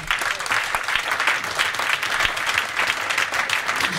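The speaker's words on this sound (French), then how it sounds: "je crois qu'on peut encore une fois l'applaudir pour cela." Dense, steady applause from a dinner audience at a community supper in Selembao fills the whole stretch, many hands clapping at once, loud and close with no pause.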